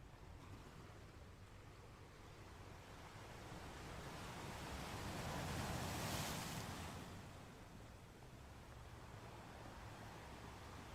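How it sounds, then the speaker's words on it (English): Ocean waves heard faintly behind a living-room stream, a continuous hissing wash of surf that swells to a broad peak midway and then settles back. "listening to the sound of the ocean"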